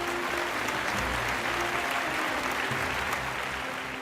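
Applause from an audience at a golf expo awards ceremony in India fills the whole span, a dense steady clapping from many hands close by with no talk over it.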